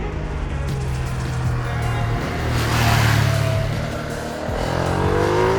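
A 2025 Ducati Streetfighter V2S with an 890cc V2 engine drones loud and close as it is ridden, its revs rising and falling steadily with strong wind rush and no talk.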